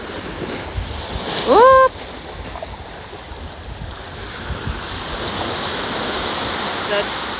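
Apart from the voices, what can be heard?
ocean waves at a beach at high tide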